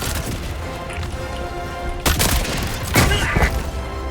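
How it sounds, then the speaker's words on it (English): Orbital barrage strikes land in the video game Helldivers 2, two heavy booming blasts about a second apart rising out of a constant rumbling, crackling battle bed. "Orbital barrage incoming."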